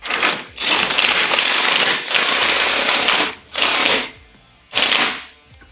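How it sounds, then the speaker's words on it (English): Impact gun working the hub nut on a C6 Corvette wheel in a garage, several loud rattling bursts of hammering, the first few long and the last two shorter, with brief pauses between. "give me that impact gun. Let's get this done."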